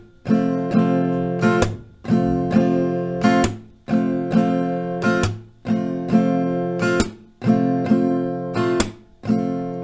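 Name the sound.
acoustic guitar strumming pattern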